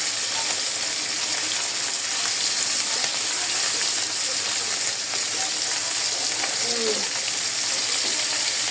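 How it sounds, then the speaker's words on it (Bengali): Fish frying in a pan gives off a steady, moderately quiet hiss and sizzle with a few faint clinks, continuous throughout. "এই তো আমি মাছ ভাজতে বসে দিচ্ছি, তো মাছগুলো ভাজা হতে থাকো"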